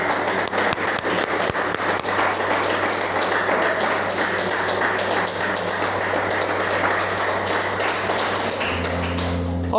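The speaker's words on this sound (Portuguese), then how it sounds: "Pode aplaudir o Senhor por isso?" Church congregation applauding during a Portuguese-language sermon, a steady, dense wash of claps and taps with scattered louder hits, continuing throughout before a low hum enters near the end.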